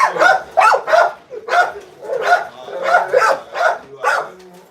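A caged dog barks repeatedly up close, a run of about nine loud, evenly spaced barks and yips with short gaps, alone without talk.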